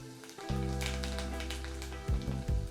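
Mini arancini rice balls crackling and sizzling steadily in hot frying oil, a soft continuous close-up fizz with a low hum beneath and brief swells near the end.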